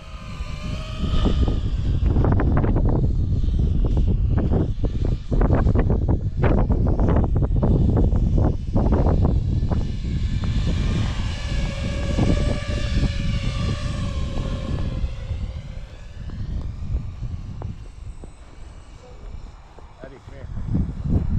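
A small model airplane engine drones steadily throughout in cold, windy conditions, rising and falling slightly in pitch, with people talking over it nearby.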